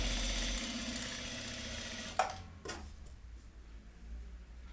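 A sewing machine runs steadily while stitching pyjama fabric along a marked line, then stops, followed by a couple of sharp clicks and quiet handling.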